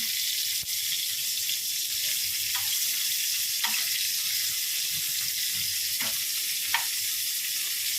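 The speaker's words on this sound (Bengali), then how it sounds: "পটলটা আমার লাল লাল করে ভাজা হয়ে গেছে" Pointed gourd (potol) frying in a pan produces a quiet, steady hiss with a few faint crackles and pops scattered through it.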